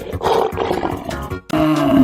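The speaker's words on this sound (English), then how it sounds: "Lion." A cartoon lion gives a loud roar that breaks off briefly, then resumes with a sustained, strained growl, heard alone without talk.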